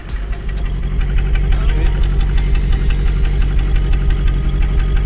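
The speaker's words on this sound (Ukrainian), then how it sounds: "Можете послухати глушитель." A VAZ 2110 engine with about 131,000 km idles roughly, its steady low exhaust drone from the muffler running continuously with a faint irregular knock, loud and close throughout.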